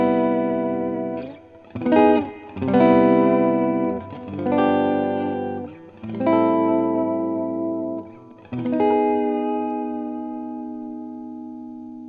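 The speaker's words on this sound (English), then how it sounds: "as you can hear, spring reverb going on in the background" Electric guitar played through a Fender Vaporizer amp with spring reverb, chords ringing out in several sustained, slightly distorted strums with short gaps, shimmering reverb tails trailing each one.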